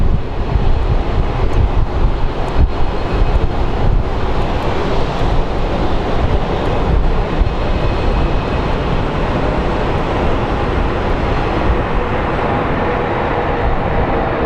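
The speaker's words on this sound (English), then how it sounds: "and a little CRJ takeoff" A Mesa Airlines CRJ regional jet takes off at Phoenix Sky Harbor International Airport, giving a steady, loud broadband roar that holds throughout with wind buffeting the microphone and no voices.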